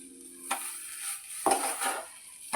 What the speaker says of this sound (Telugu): ఇట్లా కలుపుతూనే ఉండాలండి